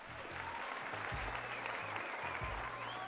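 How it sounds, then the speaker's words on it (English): A round of applause from an audience during a talk show segment, a steady wash of clapping held at an even level for about three seconds, with a low music bed underneath. "So might as well give her a round of applause."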